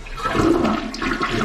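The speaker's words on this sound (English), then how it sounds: "check that, nice drop. Yep, flush is good." A toilet in an apartment unit under cleaning and repair flushes with a loud, close rush of swirling water that runs steadily through the whole moment.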